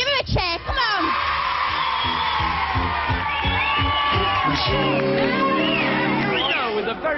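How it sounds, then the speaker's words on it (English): A studio audience at a music TV show cheers and whoops loudly over lively background music, with voices and shouts blending into a sustained roar. "Give him a cheer."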